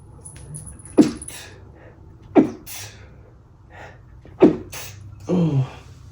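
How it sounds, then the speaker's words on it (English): A person sneezing indoors, three sharp, loud, close sneezes with quick inhaled gasps and breathing between them, followed by a shorter huffing exhale. "I need to sneeze."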